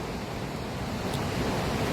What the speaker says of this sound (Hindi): और ये पानी ऊपर झरने से बह के नीचे आ रहा है।